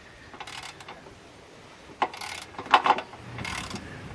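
A ratchet cranks a cross member bolt down slowly, with a few soft clicking bursts and a couple of sharper metallic ticks against a quiet, faintly noisy background.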